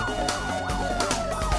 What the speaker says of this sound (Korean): 긴급히 소방서를 빠져나가는 소방차.